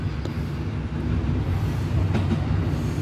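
A green-and-silver EMU900 ten-car electric commuter train on the Yilan line pulls into Ruifang station with a steady, loud low rumble of wheels and motors and a couple of brief squeals as it slows.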